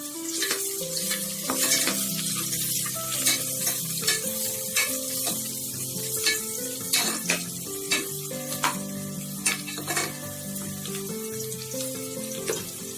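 Spices and salt stirred into biryani in a pot, with a spoon or ladle scraping and clinking against the pot in an irregular rhythm over a soft, continuous sizzle.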